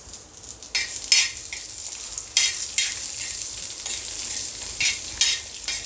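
Garlic cloves and a piece of ginger stirred and sautéed in a pan, bursts of sizzling hiss rising and falling with each stir, close and fairly loud, without speech.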